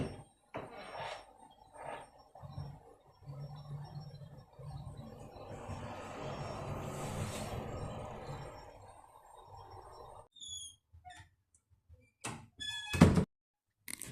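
Doors fitted with slow-speed door closers swing shut gradually with a low rumbling drag, then a quiet squeak and a firm thunk as they latch near the end.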